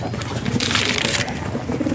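Domestic pigeons on a farm flap and shake their feathers in a steady rustling flurry, with soft low cooing running underneath throughout.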